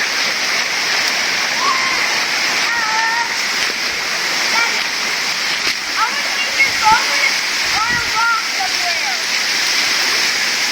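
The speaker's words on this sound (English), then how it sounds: "it's a smaller waterfall" A small waterfall pours in a steady, close broadband rush, with birds chirping faintly above it and no break in the flow.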